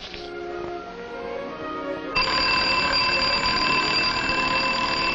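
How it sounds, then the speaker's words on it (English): An alarm clock bursts into loud, continuous ringing about two seconds in, a steady metallic clatter over a background of music, in a 1954 short film about daily habits. "But she got up when the alarm went off."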